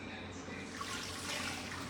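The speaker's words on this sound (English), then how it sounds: "So I do add a little water" Water is poured into a pot of collard greens before pressure cooking, a soft, steady trickle and splash running close by throughout.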